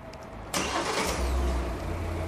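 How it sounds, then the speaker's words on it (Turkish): A Hyundai Tucson engine cranks and fires about half a second in, then settles into a steady, close idle with a low rumble. No one speaks. "Çalıştırın arabayı."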